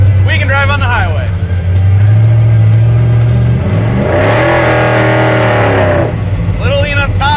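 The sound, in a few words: car engine revving while driving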